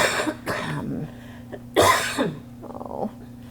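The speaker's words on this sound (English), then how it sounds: "concerned about your cough" Several coughs and throat-clearing sounds from one person nearby, a sharp loud cough in the middle, separated by short pauses, with a faint low hum underneath.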